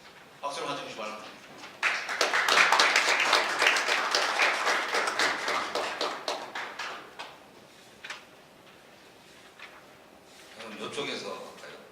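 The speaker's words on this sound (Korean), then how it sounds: "박수로 맞춰 주시기 바랍니다." An audience at a defense-industry academic symposium gives a warm round of applause, swelling quickly to a dense, sustained clatter of hands, fading, then returning briefly near the end.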